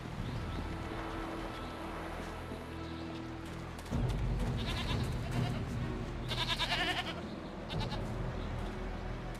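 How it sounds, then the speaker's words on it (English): A goat in the video game Jade Empire bleats in repeated wavering calls, loud and close, over a steady game ambience with a low drone. "Goat."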